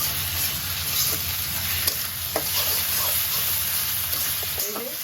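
Ginger, garlic and green chili paste frying in a pan, a constant loud hissing sizzle with occasional soft stirring scrapes, close up over a low background hum.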